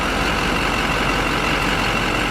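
A 2005 Duramax diesel pickup engine runs during an injector flow test, giving a steady, loud, low rumbling idle with no voices over it.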